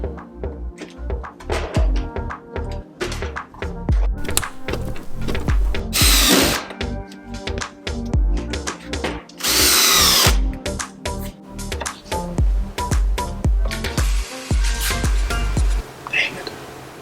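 A power drill drives overly long stainless steel screws during a reassembly, with repeated short whirring bursts and two longer, louder runs as the screws bind and jam, close and loud.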